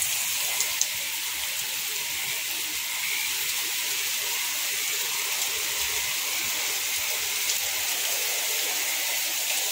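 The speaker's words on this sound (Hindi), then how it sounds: "बहुत ज़बरदस्त बारिश हो रही है।" Heavy rain falls in a constant, dense hiss, steady and moderately loud from start to finish with no voices over it.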